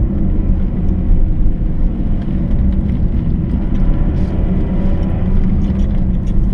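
A car climbing a narrow mountain pass road toward the Col de Romme above Cluses, ice on the verge, holds a loud, steady low engine and road rumble throughout as it drives and gently accelerates, with no talking.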